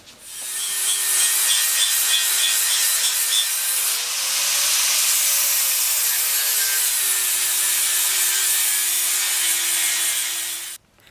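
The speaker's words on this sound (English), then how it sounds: "I'm gonna grab some flappy discs and start cleaning this up." A grinder with flap discs works over the steel rear bumper of a big rig. It makes a loud, continuous abrasive whine and rasp, and the pitch dips and recovers under load across roughly ten seconds. No voices are heard.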